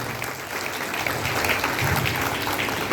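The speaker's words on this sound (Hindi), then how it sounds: "हम चाहेंगे एक बार सर के लिए जोरदार ताली हो जाए।" Steady applause from a crowd at a DAV Foundation Day ceremony, clapping continuously at moderate volume without pause.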